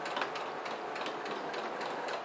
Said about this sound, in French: Et je couds comme ça jusqu'à la fin de mon biais.